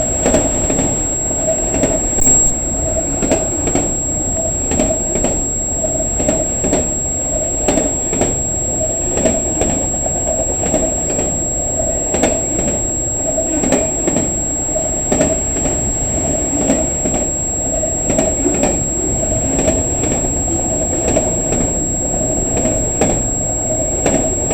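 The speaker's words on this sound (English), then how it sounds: "this train is going faster than 148" A freight train runs continuously and loudly past at speed, its wheels producing a steady rumbling clatter with rhythmic clicks from the rail joints and a faint high whine, with no voices.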